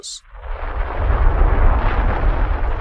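Thunderous volcanic eruption blast of Krakatoa, a loud, deep, rumbling roar that swells after a brief high hiss and sustains heavy low-end force for several seconds without voices.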